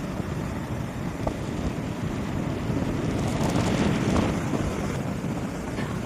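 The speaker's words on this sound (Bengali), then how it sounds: "বাট হয়তো আওয়াজটা শোনা যাচ্ছে ঢেউয়ের" Sea waves wash on a beach at Shankarpur near Digha after dark, a continuous low roar of surf mixed with wind buffeting the microphone, steady throughout with no voices.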